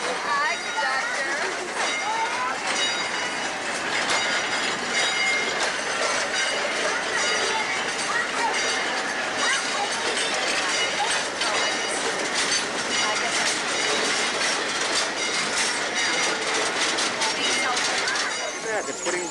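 Passenger train rolling on rails in California in 1991, with a steady rumble and faint rhythmic clatter heard from inside a car, continuous and fairly loud, with voices murmuring in the background.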